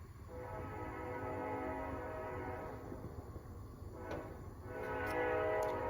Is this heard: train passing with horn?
yes